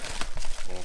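Packaging being pulled open while unboxing a Thrustmaster T248 racing wheel: a short burst of close, crisp crinkling and rustling.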